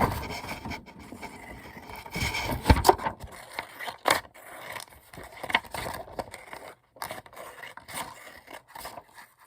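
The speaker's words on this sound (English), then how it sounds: "And now I can just cut this off." Scissors cut through craft material up close, with scraping snips and a crisp burst of cuts near the middle, and small handling clatter before and after.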